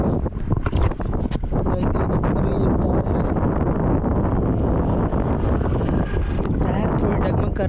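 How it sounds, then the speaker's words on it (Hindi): Strong wind blowing outdoors, buffeting the microphone with a loud, constant rumble for the whole stretch, with occasional gusty bursts and no clear speech. "इतना हवा चल रहा है ना।"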